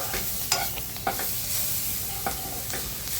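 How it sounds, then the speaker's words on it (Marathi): Vegetable curry with salt fries in a pan while being stirred, a soft steady sizzle broken by a few scraping strokes of the spoon, close and fairly quiet, with no talking. "आणि ते चांगलं फ्राय करून घ्यायचे भाजी"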